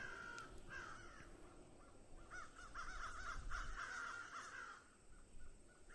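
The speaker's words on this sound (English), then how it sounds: "So there's crows. Oh, there's a crow over there." Crows caw repeatedly at a distance in the Wardwell House video game, harsh calls repeating over a low wind-like ambient rumble, with no talking.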